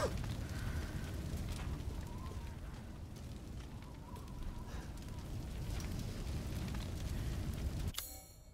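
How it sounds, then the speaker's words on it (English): Fire spreads in Resident Evil Village with a steady dense roar and crackle that holds loud throughout, then cuts off abruptly near the end. "Damn, the fire's moving fast."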